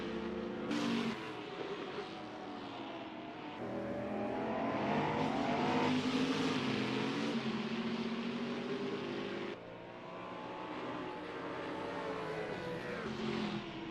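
Race car engines in a sim racing game at the Adelaide GP, several cars droning and revving through gear changes over a long stretch, with a steady rise and fall of engine pitch.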